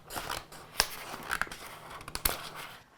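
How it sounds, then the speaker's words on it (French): Scissors snipping closely around a cut vinyl craft design, a quick series of sharp close crunching clicks with irregular rhythm, quiet between cuts. "Je vais maintenant venir découper au ciseau au plus proche du motif pour venir le récupérer."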